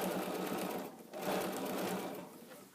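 Sewing machine stitching the lining and edges of a fabric tool caddy, a close, steady whirring run with a brief slowdown about a second in before picking back up.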